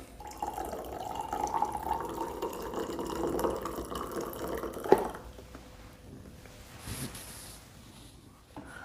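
Hot water poured from a kettle into a glass of coffee and Old Monk rum gives a steady trickling splash for about five seconds, then fades to quiet drips and faint handling noise.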